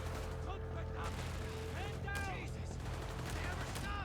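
Rifle and machine-gun fire trade over the central victory point in the strategy game Company of Heroes 3, distant bursts and rattles mixed with whistling effects under a continuous battlefield rumble.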